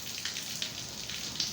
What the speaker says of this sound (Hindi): अभी बारिश सुबह स्टार्ट हुई है और आहिस्ता आहिस्ता तेज़ होती जा रही है।